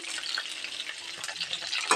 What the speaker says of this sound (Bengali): এই দেখো আলু ভাজা বসিয়ে দিয়েছি